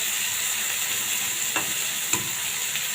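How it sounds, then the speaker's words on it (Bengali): Shrimp fry in hot oil with a steady, bright sizzle throughout, broken by a couple of short scraping stirs of the spatula in the pan, close and without speech. "এখন আমি আর একটু ভালো করে নাড়িয়ে দিতেছি, যেন ওই তেলটা ভালো করে হয়ে যায়"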